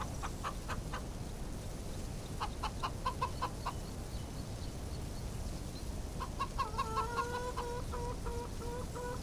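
Chickens cluck in Farming Simulator 25, with short repeated bursts of clucking and a few louder squawks over a steady low farm ambience, with no talking.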